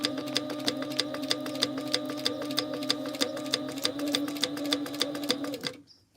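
Sewing machine stitching around the edge of a handmade family travel organizer, a steady run of rapid regular needle clicks that is close and clear, then stops abruptly near the end.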